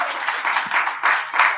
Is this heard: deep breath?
no